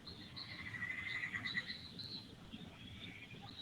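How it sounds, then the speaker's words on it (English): Insects trill outdoors at night, a faint, high, pulsing chirr that rises and fades in uneven bursts over a low, rumbling background, with no one talking. "what are those crickets or what are they?"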